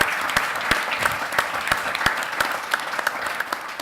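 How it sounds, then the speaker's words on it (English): An audience at a panel discussion launching a state innovation award claps in a sustained, even burst of applause, dense and fairly loud, with a few sharper claps standing out and no one speaking over it. "That deserves a round of applause, doesn't it"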